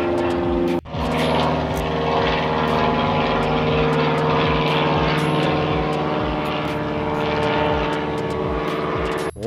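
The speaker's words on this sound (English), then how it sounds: "Got an airplane." Propeller airplane droning steadily overhead, loud and sustained with a constant engine hum, recorded outdoors near a small backyard metal-casting setup.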